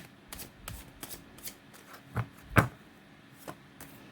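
Tarot cards shuffled by hand in short bursts of riffling and soft slaps, several separate shuffles with pauses between, close and fairly quiet, with no talking.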